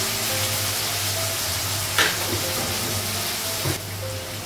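Spice paste of ginger, garlic, turmeric, cumin and coriander frying in a pan, a steady soft sizzle with a low hum beneath and a couple of brief clinks from stirring.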